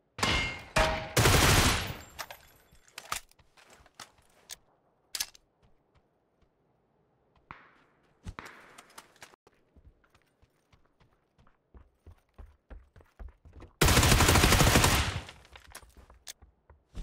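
Hip-fire gunshots in a first-person shooter video game: sharp sporadic cracks and short bursts separated by quiet gaps, with two longer loud rapid-fire bursts near the start and near the end.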